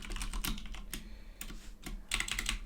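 Computer keyboard typing in bursts of quick, close key clicks with short pauses between runs, no talking.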